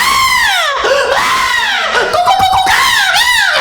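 A stand-up comedian on stage imitates a woman screaming during sex, giving loud, repeated rising and falling high-pitched shrieks in quick succession, close and dominant.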